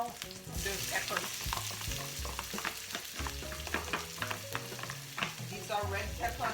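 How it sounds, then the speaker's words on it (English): Onions with red and green peppers sizzle steadily in a pan, with scraping stirs breaking through the frying noise, close and continuous with no talk. "We are going to add the onions now, the peppers."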